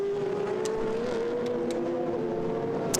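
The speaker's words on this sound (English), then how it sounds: "Nico Pronk's in the Cox Racing silver and red 650S doing a great job on the opening lap." A McLaren 650S GT race car in a racing video game drones steadily at a constant engine pitch through the whole stretch, close and continuous, with faint brief clicks on top and no talking.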